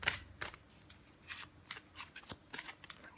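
Oracle cards being shuffled and drawn from a deck, giving a run of soft papery riffles and flicks with a few sharper snaps, fairly close and quiet, with no voice.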